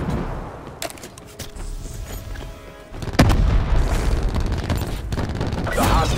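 A frag grenade goes off in Black Ops 4 on the Summit map: a deep boom lands midway through amid ongoing gunfire and rumbling battle noise that stays loud afterward.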